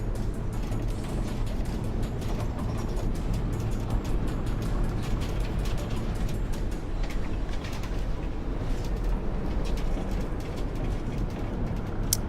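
A bus engine in the driving game The Bus, on a TXL line through central Berlin, heard from outside as a steady low rumble that continues unbroken and fairly loud throughout.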